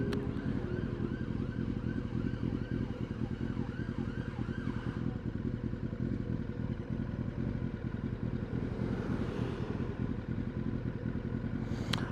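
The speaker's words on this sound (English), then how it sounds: "Oh, it's ambulance." An ambulance siren wails through rising and falling cycles during the first few seconds, heard over a motorcycle's steady, loud engine rumble while riding; the siren then fades into the road noise.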